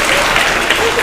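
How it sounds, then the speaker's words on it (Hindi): An audience at a school debate program breaks into a short, loud burst of steady clapping with no pauses. "ताली बजाइए जोर से दोनों के लिए"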